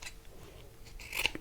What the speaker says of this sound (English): taking little scissors, I'm just going to cut around the shoe.